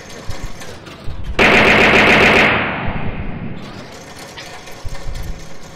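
Machine guns on a ship in the game From The Depths fire in a loud, sustained rapid burst lasting over a second, set against a continuous mechanical hum before and after.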